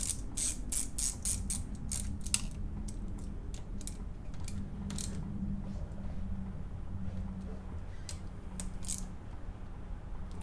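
A ratchet tightens clutch bolts on a Chevelle's LS with a T56 transmission, a fast run of crisp clicks followed by more spaced, sharp ratcheting clicks, close and clear over a low background hum, with no talking.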